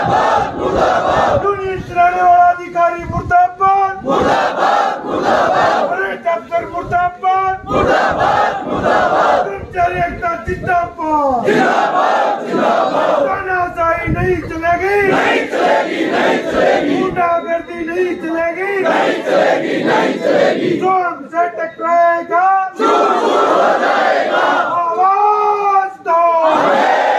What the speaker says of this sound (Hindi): तो सारे मुर्दाबाद हो रहे हैं